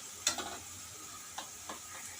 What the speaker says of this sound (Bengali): তো এবার আমি মশলাটা একটু ভেজে নিব।